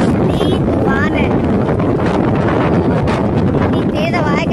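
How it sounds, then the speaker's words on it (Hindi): Strong storm wind in Sharjah, UAE, roars loudly and continuously into the microphone, buffeting it with heavy low rumble throughout, while a person talks over it. "इतनी तेज हवा है कि चलना जो है ना वो महाल है।"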